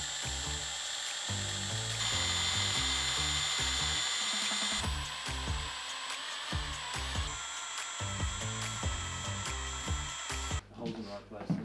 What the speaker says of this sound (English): we're gonna drill some holes